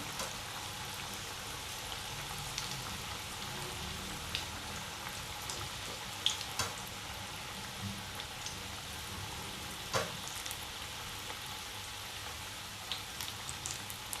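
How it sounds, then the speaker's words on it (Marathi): Methi (fenugreek) bhaji fritters dropped into well-heated oil: a faint, even bubbling crackle running steadily, with scattered small pops and spits. "ही भजी तेलामध्ये सोडते तेल छान तापलेलं आहे"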